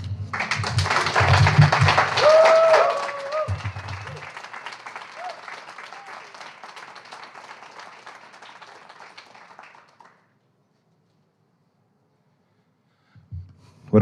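An audience at an Indigenous poetry retreat reading applauds after a poem. The clapping is full and loud at first, then thins and fades over about ten seconds into silence, with a faint sound near the end.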